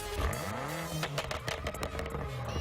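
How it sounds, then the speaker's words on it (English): A powerful BMW M5 Competition engine revs up and down nearby, its exhaust rising in pitch then settling into a throaty, crackling burble. "And this is the exhaust of the BMW."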